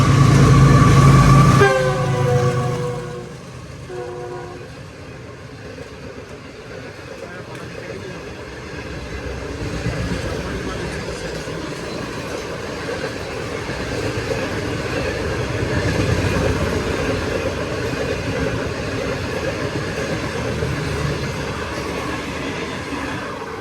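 A train horn sounds briefly at the start, then a long rumbling passage of rail cars with steady clattering at Raiwind, Pakistan, loud and close, with voices faintly underneath.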